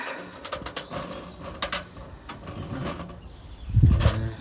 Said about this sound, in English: Just have to undo these 3 thumb screws, knurled nuts